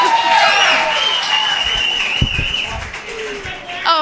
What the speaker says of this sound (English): Round of applause for my dad.